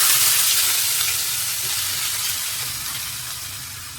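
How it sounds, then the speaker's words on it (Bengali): Onions frying in a pan for chicken dak bungalow, a loud close hissing sizzle that starts strong and gradually softens over a few seconds, with no talking. "এখন করব কি পেঁয়াজটা ভালো করে ভাজবো পেঁয়াজটা দিয়ে দেবো"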